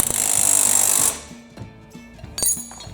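A power tool tightens a nut on a John Deere mower steering spindle, a loud rattling impact burst for about a second, then quieter clanks and a second shorter buzz.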